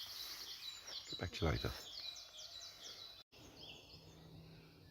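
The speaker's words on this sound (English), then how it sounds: "Really loud morning chorus again. Lots of bird song." Busy morning bird chorus with repeated high chirps and trills running through the clip, fairly faint and outdoors, while someone speaks briefly partway through.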